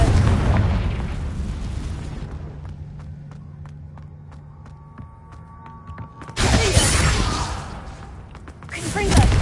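Fiery Confringo spell blasts in Hogwarts Legacy while fighting spiders: loud broadband explosive bursts open the stretch, return in a louder burst later, and a final blast builds at the end, with quieter game sounds and a voice between.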